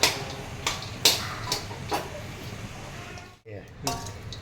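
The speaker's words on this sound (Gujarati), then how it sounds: "કાજુ બદામ અને મગફળીના શિંગદાણા અને ખજૂર બધું કમ્પ્લીટ વ્યવસ્થિત મિક્સ કરી રહ્યો છું" A spoon clinks and scrapes in a pan as dates, cashews, almonds and peanuts are mixed together, giving several sharp, close metallic taps spread unevenly over a few seconds.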